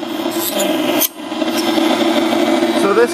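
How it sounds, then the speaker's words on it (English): A Proxxon power tool cuts through a thin, eighth-inch-thick wooden paint stir stick, giving a steady rasping whine with a brief dip partway through, close and fairly loud. "cutting a paint stir stick, the eighth of an inch thick"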